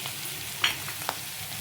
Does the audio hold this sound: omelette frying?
yes